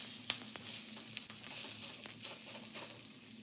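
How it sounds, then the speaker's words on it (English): Meat sears in a very hot thin pan, giving a loud, continuous close sizzle with a few sharp crackles and pops and no talking. "we're just getting a nice sear on this"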